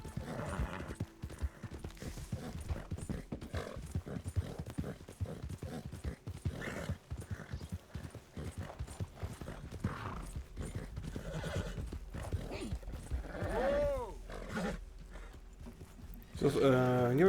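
A horse gallops in Red Dead Redemption 2, with rapid, steady hoof clip-clops running throughout and a whinny rising near the end, all under someone talking.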